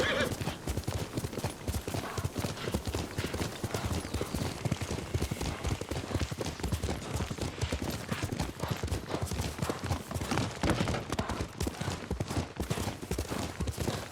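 A horse is ridden in Ghost of Tsushima, its hooves clip-clopping in a steady, rapid rhythm for the whole stretch, close and continuous, with occasional snorting and no talk.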